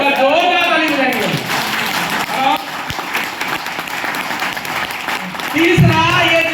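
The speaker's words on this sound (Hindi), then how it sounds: "एक बार जोरदार ताली बजाएंगे" Audience applause at an RCM seminar, a sustained wash of clapping from a crowded hall with a voice and pitched sounds rising over it at moments.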